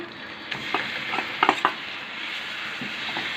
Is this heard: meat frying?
yes